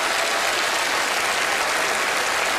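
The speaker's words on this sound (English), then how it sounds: "A big round of applause for our very observant spectators." Audience applause at a televised magic show, dense continuous clapping from a large crowd, loud and sustained with no voices over it.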